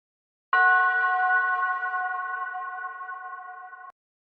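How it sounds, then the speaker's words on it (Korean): A temple bell rings once at night, a single struck tone with a clear sustained hum that fades slowly over a few seconds and stops abruptly, heard alone in silence. "들으셨어요? 저 종소리요."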